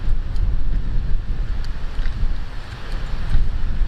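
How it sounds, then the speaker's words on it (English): Gusty wind buffets the microphone beside a lake, a loud continuous low roar that swells and fades over a few seconds, with no voices. "I know the wind sucks, but I can't do nothing about that."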